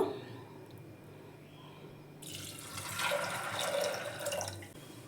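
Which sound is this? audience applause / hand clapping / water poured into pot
water poured into pot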